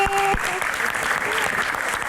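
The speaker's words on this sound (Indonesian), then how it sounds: "Kita berikan tepuk tangan yang luar biasa untuk Mbak Arumi." Audience applause at a live Q&A show fills the hall, dense and loud throughout, with a brief speaking voice at the very start.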